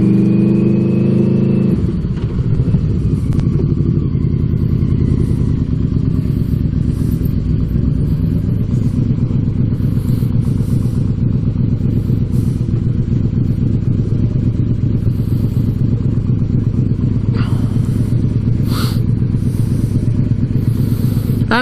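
A car cruising around a residential neighborhood gives a steady, loud in-cabin engine and road rumble, with faint rattles and a few clicks along the way.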